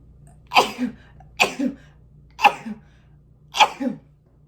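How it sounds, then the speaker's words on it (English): Four separate sneezes, evenly spaced about a second apart, each a sharp burst with a breathy tail, close and fairly loud against a quiet background. "I'm feeling a sneeze coming on"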